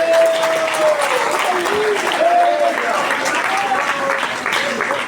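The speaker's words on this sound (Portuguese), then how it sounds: "bate palmas bem alegre para o Senhor Jesus" A church congregation claps steadily and cheerfully for several seconds, a dense, even wash of applause with a voice faintly audible over it.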